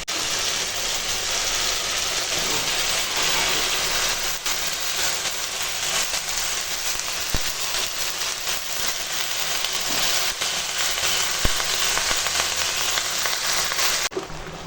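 Greens, including pumpkin leaves, stems and flowers plus amaranth leaves, sizzle in a hot pan, with a loud, steady frying hiss that holds evenly throughout.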